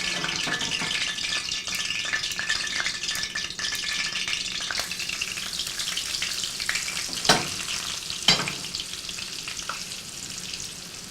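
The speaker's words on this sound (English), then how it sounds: "just so we can fry up our onion rings" Steady crackling sizzle of onion rings frying in hot oil over medium-high heat, continuous and close, with a couple of sharper pops and clinks near the end.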